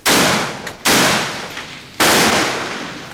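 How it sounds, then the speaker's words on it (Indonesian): Gunfire in an armed clash between TNI soldiers and GAM fighters in Aceh, three loud, close bursts, each with a long rolling echo that fades before the next, with no speech. "Kontak senjata berlangsung sporadis mulai Senin malam hingga Selasa siang."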